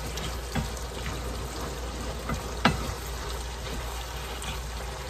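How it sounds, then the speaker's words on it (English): Skillet taco dip simmering on the lowest stove setting, giving a steady soft bubbling sizzle throughout with a few faint pops, heard alone and close. "And this is just on a simmer. I got it on the lowest setting on the stove."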